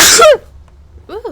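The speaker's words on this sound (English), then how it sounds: "That was a spicy sneeze right into the mic and everything." A loud, close sneeze blasted straight into a microphone during a tabletop Dungeons & Dragons session, with a short spoken exclamation following a moment later.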